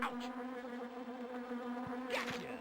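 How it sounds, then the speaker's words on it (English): A swarm of bees buzzing in The Grinch PS1 video game, a continuous droning whine at steady level with a few short game effects layered on top; no voices. "oh, no! Not bees!"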